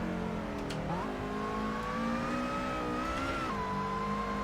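A race car in the Assetto Corsa racing game revs hard, its engine note climbing steadily with a quick shift dip near the start and another near the end, loud and alone.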